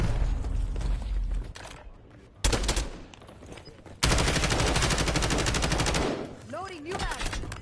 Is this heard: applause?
no